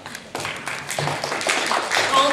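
Scattered clapping and applause from an audience at a high school public hearing, a brief burst of claps mixed with crowd murmur and voices, moderately loud and building slightly toward the end.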